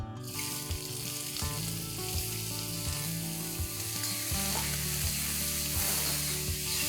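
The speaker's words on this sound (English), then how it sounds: "Once the oil is heated up, I'm going to saute 3 finely chopped onions." Three finely chopped onions sauté in three to four tablespoons of hot oil for an onion sauce, a close, steady sizzle with a few soft stirring knocks and no talk.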